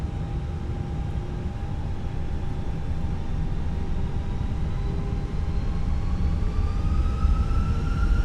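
Airbus A320 engines in Microsoft Flight Simulator spooling up for takeoff from Paris Orly, a steady broad rumble with a rising whine that climbs gradually throughout, no voices.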